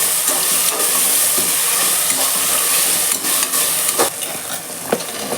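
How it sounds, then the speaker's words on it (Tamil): Tomatoes being lightly sautéed for veg pulao, a loud steady hiss of frying with occasional stirring scrapes and clicks of a spoon, close up and without talk. "அதனால நான் லேசாக வதக்கிக்கிறேன்."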